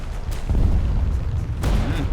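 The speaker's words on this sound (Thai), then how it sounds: "ระเบิดเพื่อนหนักมาก" Explosions from a Sturmtiger 380 mm in War Thunder: a deep, heavy boom with a rumbling tail, then a second sharp blast near the end, both loud and close, with no voices.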